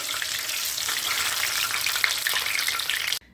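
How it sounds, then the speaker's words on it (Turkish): Spinach fritters frying in a pan give off a dense, continuous crackling sizzle, close and steady, then cut off abruptly at the end. "İkinci tava ıspanak balığım bakın çok güzel kızardı. Diğer yüzlerini çeviriyorum."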